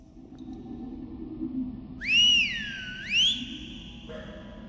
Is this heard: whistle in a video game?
yes